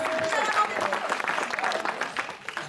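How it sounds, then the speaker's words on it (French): An audience applauds for the second-to-last contestant at an evening comedy show, with dense, steady clapping mixed with crowd noise throughout. "Allez, on applaudit bien fort Fabio"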